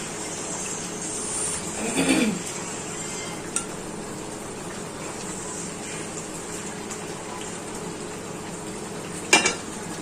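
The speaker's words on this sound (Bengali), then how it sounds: "এই মাছগুলো এর মধ্যে একটা একটা করে ঢেলে দেবো, কারণ ফুটে গ্রেভি অনেকটা কমে এসেছে।" Fish pieces for Bengali doi katla dropped one by one into reduced, boiling gravy in a pan, with a steady simmering hiss, a soft thump early on and a brief clatter of utensils near the end.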